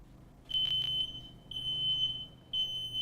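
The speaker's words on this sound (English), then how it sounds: "That's the photoelectric detector again." A photoelectric smoke detector sounds its alarm in a smoke-filled room: three loud, shrill, steady electronic tones, each lasting about half a second, repeating at a regular pace about once per second, with no voices.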